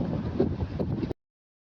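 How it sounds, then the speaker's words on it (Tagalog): Strong wind buffets the microphone with a continuous low rumbling roar, loud and steady, then cuts off abruptly. "Sobrang lakas ng hangin guys."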